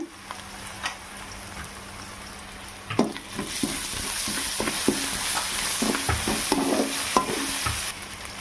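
Onions with rock salt and ginger garlic paste sauté in a pan for a cauliflower gravy, a spoon scraping and stirring in irregular knocks while a bright, steady sizzle swells up and holds.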